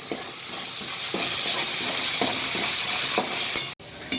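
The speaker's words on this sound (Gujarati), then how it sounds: "હવે એને 1 મિનિટ માટે આપણે સાતળી લઈશું." Grated onion and green masala sauté in a pan for masala bhindi, with a constant bright sizzle broken by rhythmic scrapes of a spoon stirring about once a second, close and loud, with no talking.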